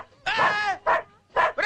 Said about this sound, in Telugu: ఏమిట్రా కుక్క?